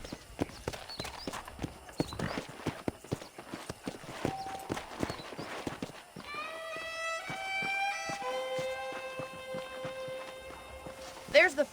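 Horse hooves clip-clop at a steady riding gait in the video game Red Dead Redemption 2, loud and close for several seconds, then continuing under sustained tonal game music and some voice.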